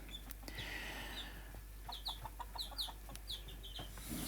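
Chickens of several breeds clucking on a farm, with repeated short clucks and chirps at a moderate distance over a low steady background hum.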